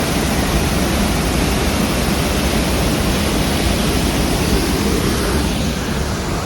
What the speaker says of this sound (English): I'm at the waterfalls now